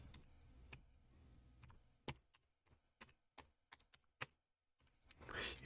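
Wi-Fi password being typed on a keyboard, a quiet, uneven series of separate key clicks with short pauses, ending in a brief rustle.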